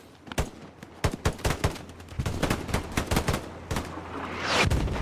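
Gunfire in a Hell Let Loose match on Omaha Beach, a string of sharp, loud shots and quick bursts, some close and some farther off, spaced irregularly and building toward a rumbling blast near the end.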